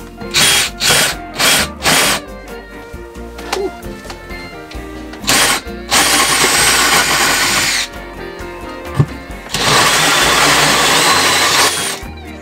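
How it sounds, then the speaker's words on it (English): Power drill boring a hole in the ceiling of a vintage RV: several short loud bursts, then two long sustained whines of drilling close by, with brief pauses between. "the first step is drilling my hole, so I'm gonna do that first"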